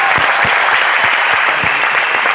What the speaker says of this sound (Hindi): सर, तालियां जरूर बननी चाहिए।